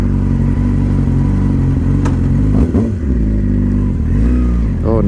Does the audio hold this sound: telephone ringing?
no